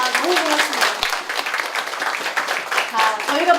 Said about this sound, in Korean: 자, 어머님들한테 박수 한번 보내드릴까요?